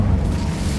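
The Incendio fire spell is cast in Hogwarts Legacy, a short, loud, low roaring burst of flame with a heavy booming rumble that holds for under a second.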